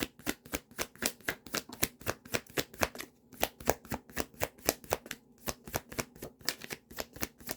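Tarot cards being drawn and shuffled during a monthly Pisces reading, heard as a steady run of crisp, close riffling slaps that repeat rhythmically, with no talk.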